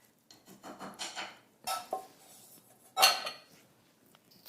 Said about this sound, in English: So just fold that. Just turn the bowl and be, gentle.